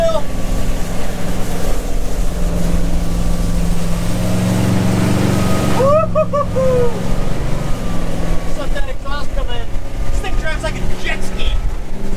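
A 2008 Chaparral 236 SSX motorboat with a 496 MAG engine carves a sharp turn on the water. A steady, loud engine drone and rushing water continue throughout, with voices talking over it.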